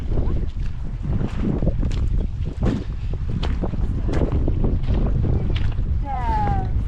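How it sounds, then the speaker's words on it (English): Steady wind buffets the microphone throughout, a constant roaring rush with faint voices underneath. "Bit more windy on this side, isn't it?"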